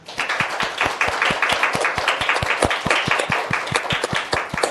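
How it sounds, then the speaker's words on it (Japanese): Crisp, evenly spaced claps in a steady rhythm, close and loud, for an award winner at the Champion of Change Japan Award 2021 ceremony, continuing without pause and with no talk. "どうぞ牧野様に大きな拍手をお願いいたします。"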